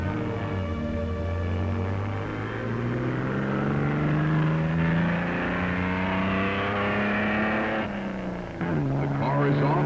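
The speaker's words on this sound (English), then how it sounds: "The car is off with Carroll Shelby, the Flying Texan, smoothly meshing through the gears." An Austin Healey car runs at Bonneville, its engine note climbing steadily and dropping at a gear change before climbing again, a loud continuous drone with a narrator's voice over it.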